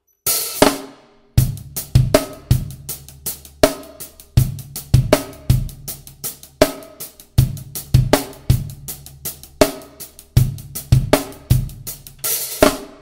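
A drum kit plays a steady 16th-note groove, with crisp snare and hi-hat hits over punchy kick drums in a repeating pattern, close, loud and with no talk.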